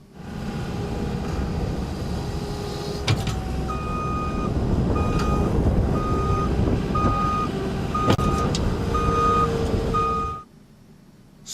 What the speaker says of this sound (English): backup alarms on vehicles warn bystanders to watch out for backing